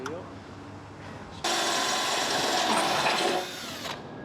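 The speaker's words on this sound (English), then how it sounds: "Not the drill, but it's the drill. Drill's almost dead." A battery-powered drill with a nearly dead charge, used during emergency service on a stuck commercial garage door, whirs faintly, then steps up into a louder, strained two-second run before dropping back to a low hum.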